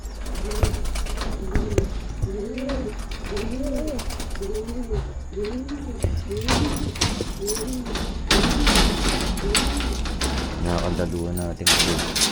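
Pigeons coo repeatedly inside a loft while a cage door is opened, with metallic rattling and clanks of the latch and wire, and a voice speaking briefly.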